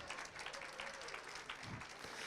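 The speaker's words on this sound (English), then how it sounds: "Round of applause." Applause from an audience at an awards ceremony in Manchester, a faint, distant steady patter of many hands in a large room.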